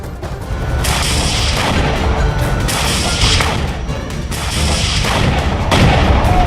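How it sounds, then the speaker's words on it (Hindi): Grenade launcher fire during a Hamas attack on Israeli forces, loud continuous rumbling blasts and booms layered over each other, with several sharper bursts standing out from the dense roar. "हमास आतंकी ग्रेनेड लॉन्चर के साथ इजरायल की सेना पर हमला करते दिख रहे"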